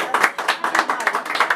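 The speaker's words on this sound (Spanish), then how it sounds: "El aplauso para ella," Rhythmic clapping for a birthday girl at a mariachi party, a run of brisk, even claps with voices mixed in over a short stretch.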